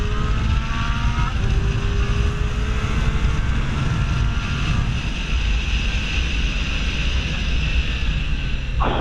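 Riding a 2017 Triumph Street Triple 660 motorcycle, with a steady engine drone under heavy rushing wind noise, constant and loud throughout.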